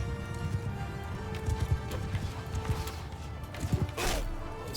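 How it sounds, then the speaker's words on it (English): Horse hooves clatter in a battle in Mount & Blade II: Bannerlord, with irregular clip-clop thuds under a general din of fighting and a brief neigh near the end. "I keep getting hit by my own horses"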